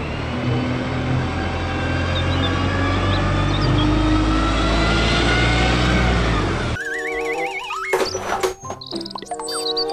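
A city bus engine drones and rumbles steadily for several seconds, then cuts to other sounds with squeaky tones.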